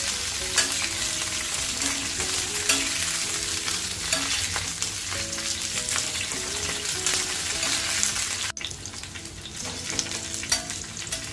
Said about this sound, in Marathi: दोन चमचे तेल घातलं छान परतून घेते छान भाजून घेते मिरच्या